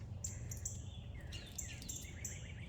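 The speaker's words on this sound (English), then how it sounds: "the birds are singing" Birds chirp and sing in a spring front-yard garden in the woods, with repeated short high calls and trills spread across the clip over a steady low outdoor hum.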